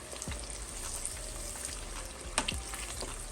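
A batch of ribs fries in hot oil with a steady, dense crackle and sizzle close by, and a couple of sharper pops or utensil knocks stand out. No one speaks.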